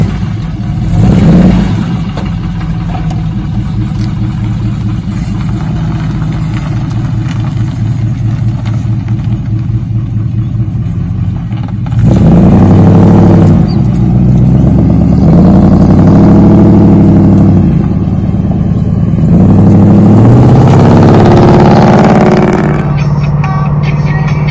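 An original Triumph Stag engine idles with a throaty, uneven burble, then revs hard in several rising and falling surges, loud and close with no talking.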